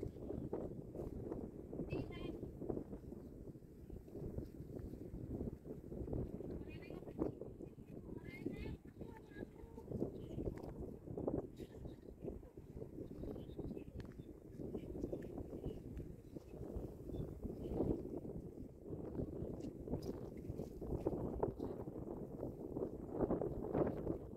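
Gusty wind buffets the microphone on the Rhino Rock hike in Hong Kong, a constant low rumbling roar with surges, while people talk nearby throughout.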